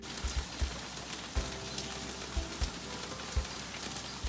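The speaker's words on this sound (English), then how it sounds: "It is uncharacteristically rainy, and it has been so cold." Steady rain falls outside, a soft, even hiss of drops with occasional faint low thumps, heard alone at moderate distance without any voices.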